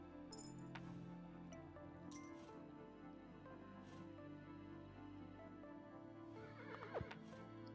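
A horse in the video game Kingdom: New Lands whinnies near the end, a rising then falling neigh over a steady low rumble and faint ambient game sounds.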